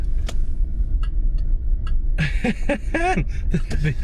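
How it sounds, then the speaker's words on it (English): Sharp, evenly spaced clicks tick over the low rumble of a car engine, and a voice starts talking partway through. "the classic turn signal. The old world kind of blinker."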